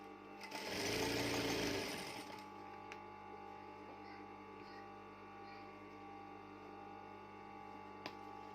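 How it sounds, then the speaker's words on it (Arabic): A sewing machine runs in one short, loud burst while stitching a bedsheet, then falls to a faint mechanical hum with a few small ticks. "هنبدا نخيط كده اهو"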